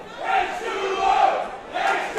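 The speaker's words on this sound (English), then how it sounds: "the crowd is doing their best to will Mitch to his feet" Crowd at an MCW High Stakes 2024 professional wrestling event cheering and chanting in sustained waves, loud and swelling with a few peaks, voices blending into a dense roar.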